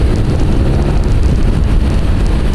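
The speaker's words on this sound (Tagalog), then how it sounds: "Ang lakas ng hangin." Strong wind roars steadily and loudly throughout, a dense low rumble buffeting the microphone with no pauses.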